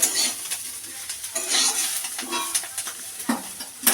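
Ingredients for a flattened-rice (chire) pulao frying in a pan while being stirred, with a steady close sizzle and repeated scraping of a spoon or spatula against the metal, no voices.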